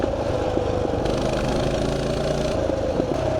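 A Mega Moto minibike engine runs steadily throughout a ride, a loud, close, buzzing small-engine drone with slight rises in revs and no talk.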